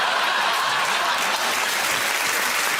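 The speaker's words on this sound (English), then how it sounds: "give that round of applause to Ed, Sarah and Andy." Enthusiastic studio audience applause on a British comedy panel show, a thick continuous wash of clapping and faint crowd noise holding steady throughout.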